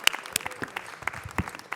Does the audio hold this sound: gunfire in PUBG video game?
no